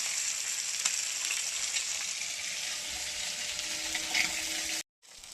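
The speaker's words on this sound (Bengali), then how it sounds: "এই দেখুন আর এক খোলা মাছ ভাজা হয়ে গেল আমার" Fish frying in a pan of oil, a steady, moderately quiet sizzle with occasional pops, close by and without talk, cutting off briefly near the end.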